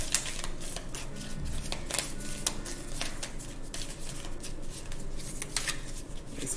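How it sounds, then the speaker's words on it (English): A deck of tarot cards being shuffled by hand, heard as a steady run of close, dry riffling clicks and soft flutters over a faint room hiss. "These cards are really hard to shuffle."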